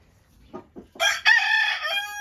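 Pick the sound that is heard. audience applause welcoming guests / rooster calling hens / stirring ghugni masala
rooster calling hens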